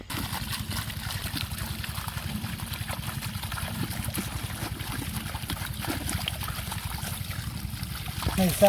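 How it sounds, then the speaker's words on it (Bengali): Small fish, including taki, being washed by hand in water at sunset, a continuous close trickle and slosh of water with light splashing that swells slightly near the end. "এখন দেখি পরিষ্কার করে জলের মধ্যে ধুইয়া দিই"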